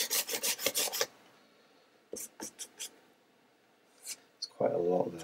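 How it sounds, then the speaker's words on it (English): Paint is scraped up and down an art journal page in quick rasping strokes that come in a rhythmic run. A few more scrapes follow after a pause, and a brief voice is heard at the end. "I'm just going to scrape it up and down the page"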